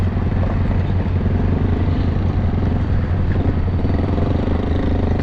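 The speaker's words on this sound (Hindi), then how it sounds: "और वो इंजन खड़ा हुआ है चालू हालत में।" A railway locomotive idles while standing near a main line track in a Karachi rail yard, a steady low diesel rumble that stays loud and constant throughout.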